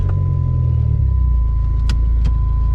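A Dodge car with a 5-speed manual gearbox rumbles low and steady as it pulls away, with a couple of faint clicks over the continuous engine drone.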